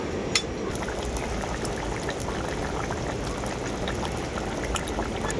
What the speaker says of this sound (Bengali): মাছগুলো দেওয়ার পর ঝোলটা আমি আবারও কিছুক্ষণের মতো ফুটিয়ে নেব